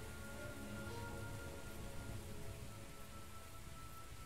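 Rain falls in the video game The Invisible Hours, a soft, steady patter that runs continuously at a fairly low level with no voices.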